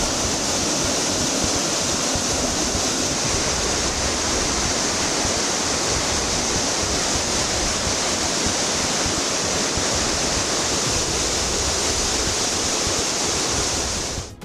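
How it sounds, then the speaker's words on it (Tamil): Floodwaters roar down a waterfall at Courtallam after heavy rain, spilling past the safety arch; a dense, steady, loud broadband rush fills the whole stretch with no voices, fading only at the very end. "பாதுகாப்பு வளைவை தாண்டி முதல் நடைபாலம் வரையிலும் தண்ணீர் ஆர்ப்பரித்து கொட்டியது."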